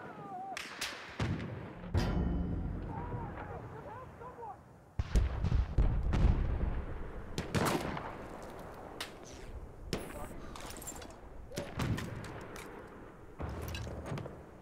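Gunfire and thudding impacts in the Battlefield 1 beta, with scattered sharp shots and heavier booms spread across the stretch, coming in irregular bursts while someone talks over them.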